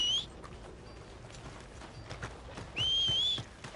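Horse hooves clip-clopping at a steady trot in Red Dead Redemption 2, fairly quiet and close, with a high whistle-like tone sounding briefly at the start and again near the end.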